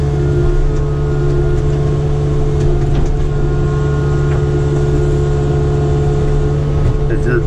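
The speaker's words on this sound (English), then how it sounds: "But it don't hurt doing a little leveling as we go here with the machine." A Kubota KX057-5 excavator engine runs steadily as it levels cleared ground, a loud constant drone with a low hum that holds through the whole stretch.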